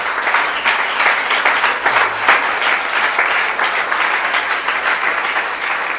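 A church congregation applauds together, a dense, loud, sustained wash of clapping from many hands that holds steady throughout.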